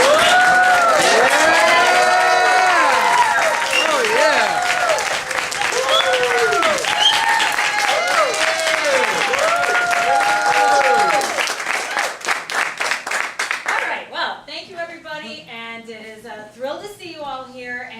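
Audience applauding and cheering for a Chicago union leader, dense sustained clapping mixed with whoops and shouts that runs loud for several seconds, then thins out as a voice begins speaking over the fading claps.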